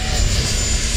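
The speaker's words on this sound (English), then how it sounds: "a few planes taking off here" Small HobbyZone Arrows RC Tecnam 2010 model planes taking off at a flying event, a steady, loud buzzing electric-propeller drone that holds constant throughout, with a faint high whine above it.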